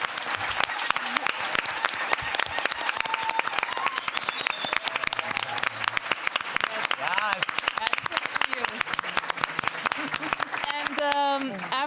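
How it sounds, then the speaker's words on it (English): Sustained audience applause for the speakers at a Photochronique talk event at Pakhuis de Zwijger, steady dense clapping filling the whole stretch, with some voices and whoops rising near the end. "I think one more applause for our speakers,"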